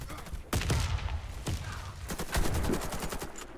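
Gunfire in an online CS-style team match during an ESL Cup game: several sharp shots in quick bursts, loud and close, with a player's voice briefly under the firing.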